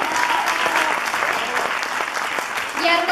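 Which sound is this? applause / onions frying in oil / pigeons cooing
applause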